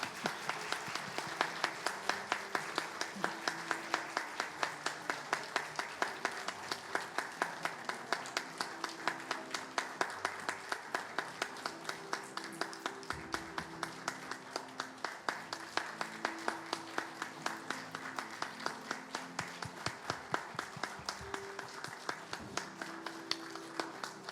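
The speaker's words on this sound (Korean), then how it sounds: "다시 한번 박수 부탁드립니다" A church congregation at a Korean Sunday worship service claps steadily and rhythmically for the whole stretch, sharp even beats over a soft sustained musical backing, with no one speaking.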